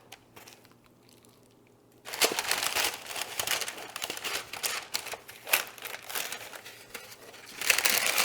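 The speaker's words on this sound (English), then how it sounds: "And then just fold everything up in the tin foil, kind of like you're wrapping a present." Aluminum foil crinkles and crackles as it is folded tightly around baby back ribs in a baking dish, a dense, continuous rustling burst following a quiet start, close and loud with no talk.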